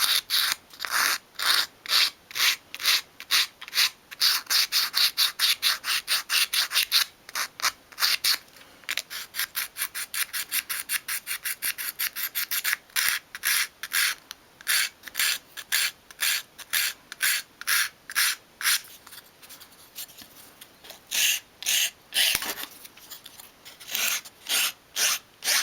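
A small file rasps along the edges of a 1/12 scale dolls' house sink, cutting a light chamfer in quick, regular back-and-forth strokes, close and fairly quiet, with a few short pauses.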